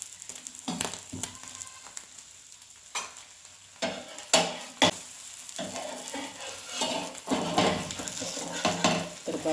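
An egg poli sizzles in a pan on the stove, a steady frying hiss broken by repeated sharp scrapes and clinks of a spatula against the pan, close and without talk.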